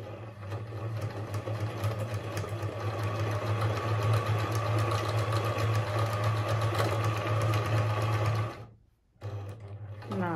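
A Pfaff Hobby 741 sewing machine stitches a buttonhole with a loud, continuous motor hum and a rapid needle rhythm. It cuts off sharply near the end, then gives a brief restart.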